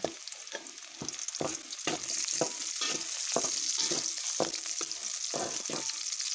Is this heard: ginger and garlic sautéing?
yes